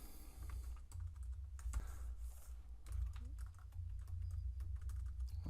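Continuous typing of code on a computer keyboard, a rapid stream of close, crisp key clicks with brief pauses, over a low steady hum.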